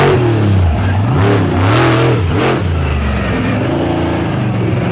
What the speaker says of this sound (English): those 565 cubic inch Brad Anderson Hemis that are in these trucks, those massive power plants